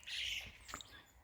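Birds calling outdoors at about 4 a.m. before full daylight, a short burst of faint squawks and chirps with a brief sharper note near the end, heard alone.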